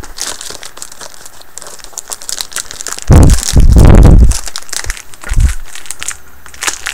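Taped plastic wrapping being torn and peeled off a PSP game box, close crinkling and rustling with two loud crunching bursts in the middle and softer handling noise around them.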